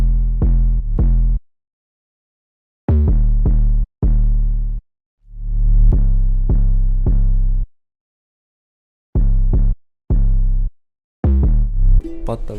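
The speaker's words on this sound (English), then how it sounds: "But the bass, the bass goes like this." A deep, loud synth bass line from a produced track plays alone in short sustained notes and phrases, separated by gaps of silence.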